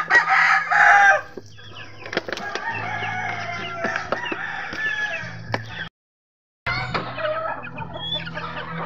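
Chickens and chicks in a coop cluck and crow steadily at close range, with a loud rooster-like call near the start and a brief silent gap near the end; no talking.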